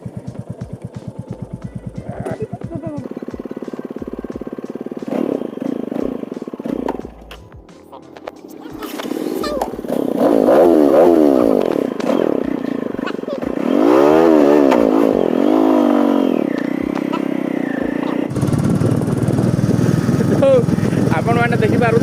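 A Bullet motorcycle ridden by a young woman, its engine thumping and revving in rising and falling surges, loud and close, with people talking over it throughout.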